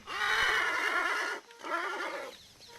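An Arabian or thoroughbred stallion at a horse breeding stud gives a loud, close whinny that wavers for over a second, pauses briefly, then trails off in a second shorter neigh.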